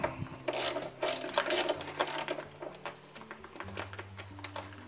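Ratchet wrench tightening a cable connection on a Motomaster 1000 watt sine wave inverter, giving a close, busy run of clicking, mechanical ratcheting strokes with no talk.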